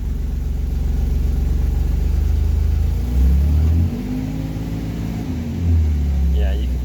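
An Austin Healey 3000 six-cylinder engine runs steadily after a cold start, a loud close low rumble with two brief rises in revs, and faint talk over it.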